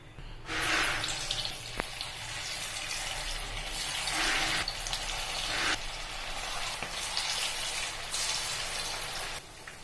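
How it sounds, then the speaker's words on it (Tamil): Chicken 65 fries in hot oil in a kadai, making a dense, continuous crackling hiss that stays fairly quiet and swells slightly in waves, with no voices over it. "கடாயில் எண்ணெய் ஊற்றி வச்சுருக்குங்க இப்போ எண்ணெய் காஞ்சிருச்சு நம்ம எடுத்து போட்டுக்கலாம்"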